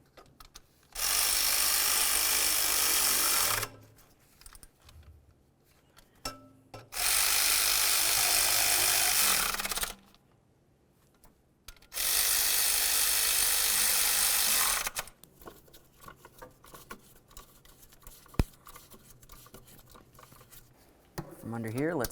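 A power tool snugs up 10mm mounting bolts during a timing belt job on a 2009-2020 Dodge Journey, running close in three separate whirring bursts of a few seconds each, with quiet clinks and handling noises in between.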